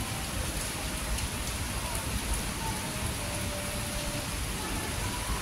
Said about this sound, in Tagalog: Tapos ngayon biglang bagsak ng ulan.